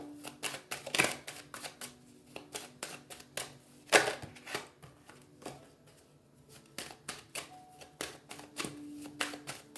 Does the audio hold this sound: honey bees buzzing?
no